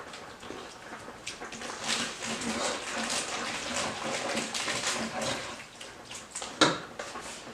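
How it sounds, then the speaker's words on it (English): Water poured into a hot pan of cooked portabello mushrooms to deglaze it, a steady close rushing and sizzling wash with a brief louder splash near the end, no talk over it. "deglaze this with some water"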